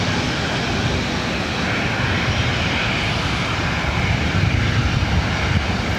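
A WestJet airliner passes at LAX, a broad, continuous jet engine roar that stays loud and steady throughout, with no voices.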